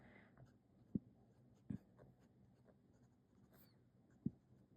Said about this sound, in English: It is a little bit scratchy, but it was a cheapish pen off AliExpress.